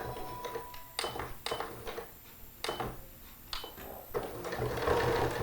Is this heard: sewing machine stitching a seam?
yes